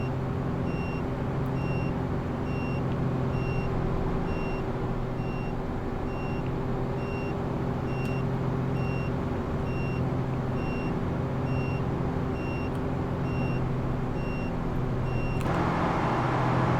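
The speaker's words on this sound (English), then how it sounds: "It's the hazards. They beep." Hazard flashers beeping inside a truck cab in Farming Simulator 22, a faint steady repeating beep over a constant low engine drone that continues through the clip.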